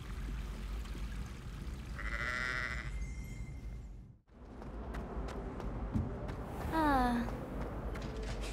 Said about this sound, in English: What are you doing with a sheep? You can't bring a sheep into school.